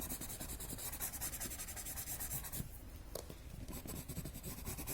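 White charcoal rubs and scratches across paper in quick, close strokes, making a dry, gritty, continuous rasp with a short pause near the end.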